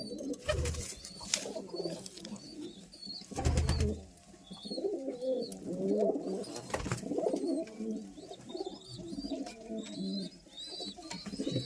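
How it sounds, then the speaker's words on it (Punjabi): Several pigeons coo repeatedly in a crowded coop, overlapping low calls with occasional thumps and wing flutters. "ਕਬੂਤਰ ਜ਼ਿਆਦੇ ਹੋ ਗਏ ਖੁੱਡੇ 'ਚ"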